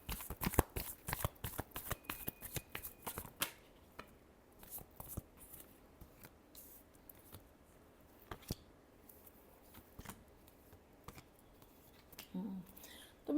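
Tarot cards are shuffled up close, with a quick burst of crisp riffling clicks followed by softer, sparser card slides and taps.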